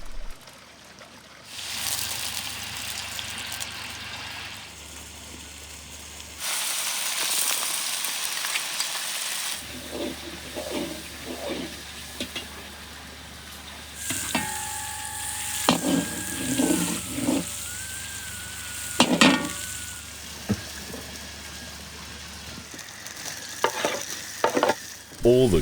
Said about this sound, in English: All the chopped ingredients need to be fried.